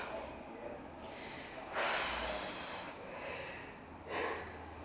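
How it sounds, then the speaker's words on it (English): Deep, forceful breaths drawn during a kettlebell home workout, two strong rushing exhales standing out near and loud over a quiet room, one early in the clip and another near the end. "Big deep breaths."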